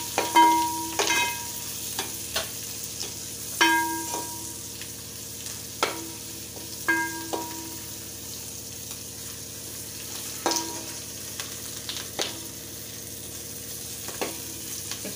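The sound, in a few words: chillies and turmeric sautéing in pan for poha chivda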